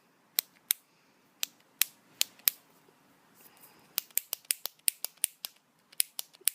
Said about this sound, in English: This product, you click the bottom.